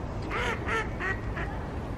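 Ducks on a pond, standing on thin ice over the water, give four rhythmic quacks in quick succession against outdoor background noise, moderately loud and fairly close.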